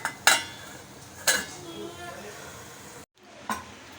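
A metal lid clanks as it is set over an idli steamer plate holding ragi and peanut dumplings. A few sharp metallic knocks ring out close by, separated by quieter gaps.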